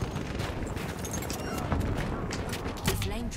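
Rapid, dense machine gun fire in Battlefield 1, a continuous rattling fusillade close by, with someone talking over the shooting.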